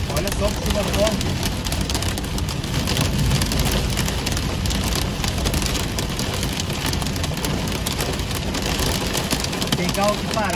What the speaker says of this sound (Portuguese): Olha só que chuva forte.